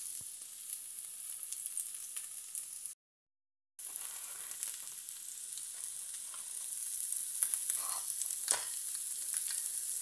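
Mushrooms saute in a pan on the smallest stove burner, giving a steady, close hiss of sizzling oil with faint crackles. The sound drops out briefly, then resumes and grows slightly louder.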